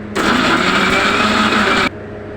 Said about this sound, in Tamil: இது கூட கொஞ்சமாக மிளகு சேர்த்துக்கலாம் இது இப்போ நம்ம அரைச்சி எடுத்துக்கலாம்